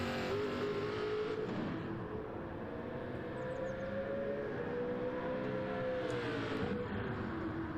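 Race cars at the Le Mans Classic endurance event roar past on the circuit, engines rising and falling as they sweep by at a moderate distance, a continuous blur of passing motors with no voices.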